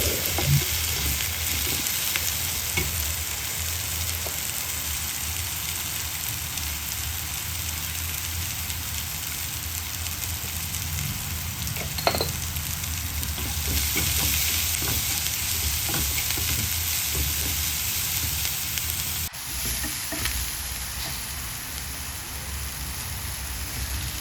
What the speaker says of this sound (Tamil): வெங்காயம் ஓரளவுக்கு நல்லா கோல்டன் ப்ரௌன் கலர் வர்ற அளவுக்கு நல்லா வதக்கிக்கலாம்